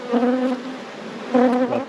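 Honey bees buzz around a brood frame in a nuc box during summer yard work, a close, steady drone that swells and fades in two louder waves.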